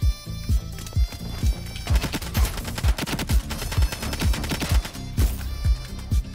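Rapid bursts of assault rifle fire crack out in the shooter game Ironsight, with sharp repeated shots in quick volleys and short pauses between them, loud and close.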